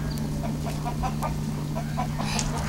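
A Muscovy duck perched in a tree gives short, breathy hisses and soft clucking calls, a few spaced sounds over a steady low background hum.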